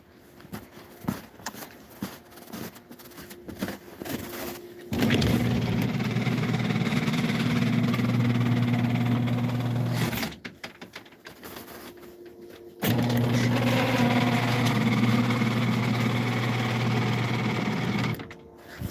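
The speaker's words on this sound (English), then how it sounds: "I have a custom outward opening Genie screwdriver on here." A custom outward-opening Genie screw-drive garage door opener on a shed runs in two long, steady bursts of loud mechanical humming and whirring, separated by a pause with light clicks and background noise.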